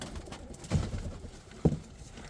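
Low, soft cooing of pigeons close by, with a couple of brief louder pulses amid a muffled, noisy background.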